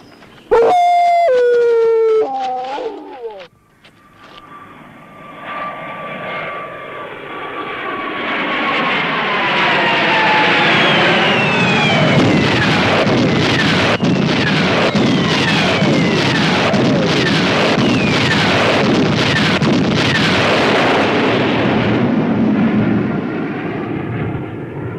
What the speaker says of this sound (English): I'm afraid they're bringing in the bombers.